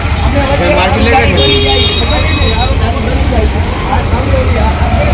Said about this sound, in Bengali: প্রচণ্ড জ্যাম আছে রাস্তায়, প্রচুর ট্রাফিক